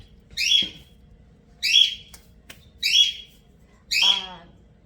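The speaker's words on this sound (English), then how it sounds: "That is the bird and our pet bird" A pet bird gives four loud, whistled squawks, evenly spaced about a second apart, close by, with a quiet background between calls.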